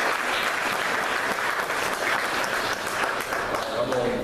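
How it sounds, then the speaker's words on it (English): A church congregation claps in praise, a sustained dense round of hand clapping with voices mixed in. "give God a hand clap of praise"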